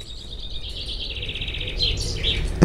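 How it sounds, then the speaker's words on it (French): Bird song of a species whose call is likened to the phrase "this is for you", a run of high, bright chirping phrases repeating through the clip at moderate distance with no talk over it. "Il y a un oiseau, quand il chante, on dirait qu'il dit « This is for you »"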